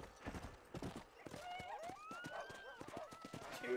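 Horse hooves clip-clop in a steady rapid rhythm in Red Dead Redemption, with a whinny rising and falling partway through, close and clear under ambient game sounds.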